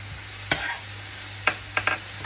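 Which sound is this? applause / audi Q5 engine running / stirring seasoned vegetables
stirring seasoned vegetables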